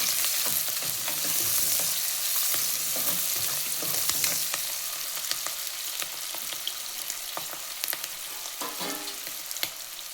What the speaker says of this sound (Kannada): ನಂತರ ಅದೇ ಎಣ್ಣೆಗೆ ಈರುಳ್ಳಿ ಹಾಕಿ ಕಟ್ ಮಾಡಿ ಈರುಳ್ಳಿನ ಹಾಕಿ ಫ್ರೈ ಮಾಡಿ.